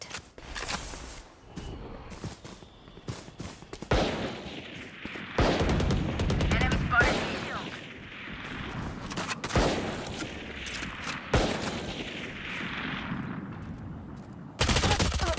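Video game gunfire comes as repeated loud bursts of rapid shots. Long volleys fill most of the stretch, with short pauses between them.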